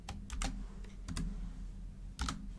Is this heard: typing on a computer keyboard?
yes